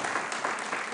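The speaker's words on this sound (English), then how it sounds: "let's give her another round of applause" Applause from a church congregation in a Baptist sanctuary, a dense steady patter of many hands clapping for the full second, moderately loud with no voices over it.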